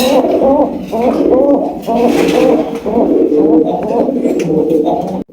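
Lahori pigeons at a pigeon farm coo continuously in overlapping, rhythmic phrases, loud and close, with a voice speaking faintly underneath.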